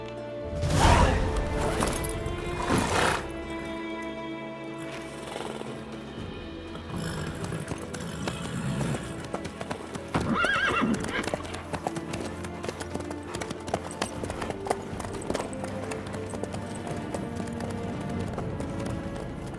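Horse hooves clip-clop steadily at a gallop in The Witcher 3, a continuous rhythmic pounding with heavier thuds and crashes early on, mixed with game music and ambience.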